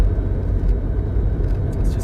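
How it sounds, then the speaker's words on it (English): A supercharged 2013 Honda Civic Si engine with a Craftworks supercharger, revving toward its VTEC crossover, makes a steady, loud, close rumbling drone with no voices. "you hear the VTEC crossover"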